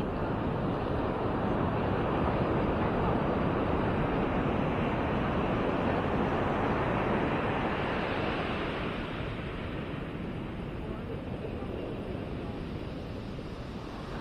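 Broad, steady roar of ocean surf breaking on a beach at Maspalomas, Gran Canaria, with wind, close and loud, easing slightly toward the end, with no voices.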